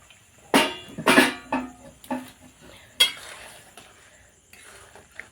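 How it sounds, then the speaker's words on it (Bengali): Fried potatoes go into a bubbling fish roe gravy in a pot, with a few loud close clattering splashes and scrapes followed by quieter stirring and simmering. "ভালো করে ঝোলটা ফুটে উঠেছে এখন এর মধ্যে দিয়ে দেব ভেজে রাখা আলুগুলো"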